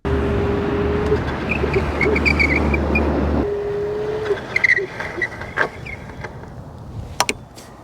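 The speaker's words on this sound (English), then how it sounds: "I'll take it to max speed, and once I come into view, I'll hit the brakes" A Gotrax GMAX Ultra electric scooter runs at top speed in a parking lot. Its steady motor whine and low hum cut off abruptly as it brakes hard, followed by faint squeaks and clicks.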